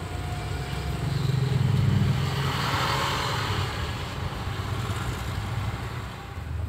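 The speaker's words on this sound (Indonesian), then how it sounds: "Kita masih di KM 17 untuk test drive setelah pemasangan Black Core Ultimate pada Kijang Grand tahun 94 Karbu" A 1994 Toyota Kijang Grand with a carburetor engine and a Black Core Ultimate part fitted drones steadily on a test drive, a continuous low engine hum and road rumble from inside the car that swells slightly, then eases.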